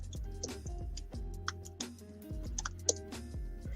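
Keystrokes clatter on a computer keyboard during a live online resale listing session, quick irregular taps in short bursts with a few sharper clicks, close and fairly quiet, with a faint steady tonal hum underneath and no talking.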